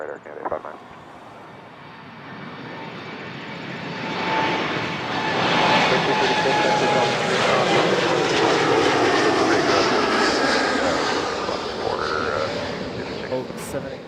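An Air Canada heavy jet comes in to land on runway 06 right at Toronto Pearson airport, its engine roar rising from quiet to a loud, sustained rumble that peaks midway and slowly eases, with radio talk mixed in.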